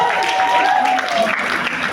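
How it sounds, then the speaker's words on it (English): Guests clapping at a farewell party for a US consulate official, a brief burst of applause with a voice and a sliding tone briefly heard over it. "More claps for yourself."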